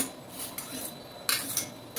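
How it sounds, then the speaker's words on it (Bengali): Metal wok (kadai) being scrubbed and washed in a kitchen, with soft scraping and rubbing strokes and a few brighter splashing, clattering bursts, close and fairly quiet. "কড়াইটা আবার মেজে ঘষে বসিয়ে দিলাম।"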